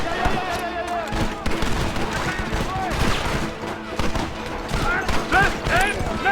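Shootout gunfire in Red Dead Redemption, rapid overlapping gunshots and volleys in a busy battle, with shouting voices heard over the shots.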